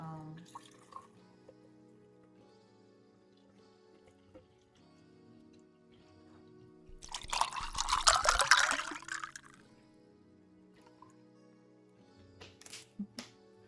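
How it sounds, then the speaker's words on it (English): Water poured into a Starbucks cup gives a single bright splashing burst of a couple of seconds in the middle of a quiet indoor space, with faint clinks and small drips before and after. "And just pouring some water into it."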